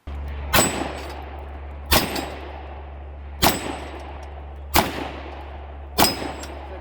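Five .357 Magnum shots from a Smith & Wesson 686 revolver at a range, evenly spaced about a second and a half apart, each a sharp loud crack with a short ringing tail over a steady low hum.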